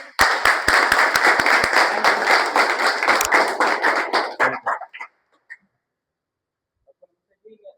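Loud audience applause with dense clapping for about four seconds, then tapering to a few scattered claps and near silence.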